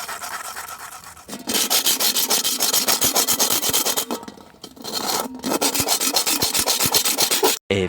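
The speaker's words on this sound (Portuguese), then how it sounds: "você vai esfregar ela contra essa pedra" A metal can's rim is scraped hard against rough stone to open the lid, a loud close rasping rub of rapid repeated strokes, sustained for several seconds with two brief pauses and no voices.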